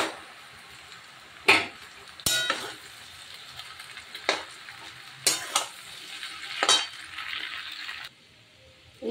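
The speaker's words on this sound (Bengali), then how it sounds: "এবার কিন্তু আমি চিড়েটা দিয়ে দেবো।" Flattened rice frying in ghee with carrots and onions, stirred by a utensil that scrapes and clanks against the pan in several sharp, irregular strikes over a faint, close sizzle.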